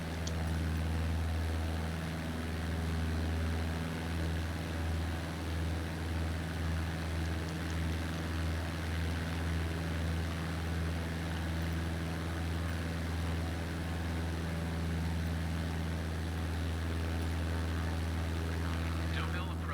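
Cessna 152 piston engine in Microsoft Flight Simulator 2020, a steady droning propeller hum with a constant low tone throughout, flying east of Deauville at 1,400 feet.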